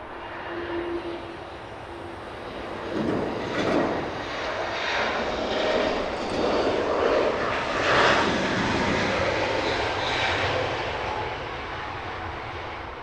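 A Swiss Airbus A320 jet departs Heathrow for Zurich, its broad engine roar steady and fairly loud throughout, swelling slightly in the middle without any talk over it.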